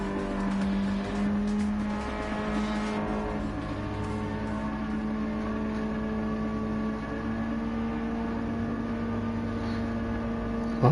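Race cars roar around a track in Gran Turismo 7, engines droning steadily with sustained tonal whine and occasional tire squeal, loud and continuous throughout with no talking.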